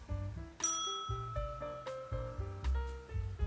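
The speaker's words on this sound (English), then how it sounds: "he likes his little bell, so let's see if that gets him in here" A small bell rings repeatedly in quick bright dings to call a cat, close and clear, with no voices.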